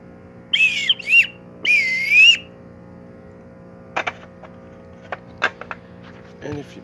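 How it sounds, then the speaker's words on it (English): A vintage Fisher-Price Crazy Combo horn set toy whistle gives a few warbling, wavering toots, followed by scattered light clicks and taps of plastic pieces. "Here's the whistle."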